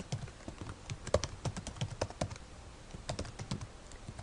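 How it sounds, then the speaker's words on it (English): Computer keyboard keys tapped in quick irregular bursts while an email address is typed, close and fairly soft, with no talking. "I can type in my Crimson address along with a subject that makes sense to me"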